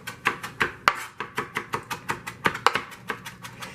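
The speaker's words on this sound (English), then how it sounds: "So you just want to chop it up nice and fine." Fresh curly Italian parsley chopped finely with a knife on a cutting board, a quick run of sharp, close taps in an uneven rhythm, with no talk.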